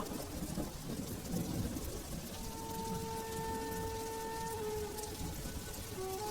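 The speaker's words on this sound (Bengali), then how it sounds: "ইস এত বৃষ্টি আজকে তো কোনো কাজেও যেতে পারলাম না" Heavy rain pours in a dense, unbroken roar with rumbling low tones, while faint tonal whines drift through the middle, steady and enveloping with no voices.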